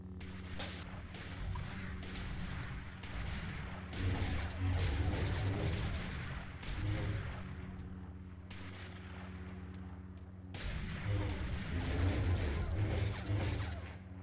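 Blaster fire in the Star Wars Galaxies video game comes as loud, dense bursts of rapid shots and crashing impacts, with a sustained roar between volleys and a brief lull before firing resumes.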